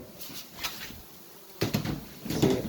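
Honey bees buzzing around an opened indoor hive during a winter inspection, a faint close hum that swells louder in brief bursts as bees lift off.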